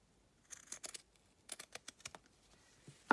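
Scissors snip through fabric scraps during a craft project, a run of quick, close cuts in short bursts with brief pauses between them, ending in a louder clack.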